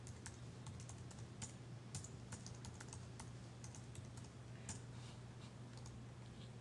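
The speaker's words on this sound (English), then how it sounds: "put in your login name and then type in" Steady, soft clicking of keys on a computer keyboard as a password is typed, quiet and close with a faint low hum underneath and no talk.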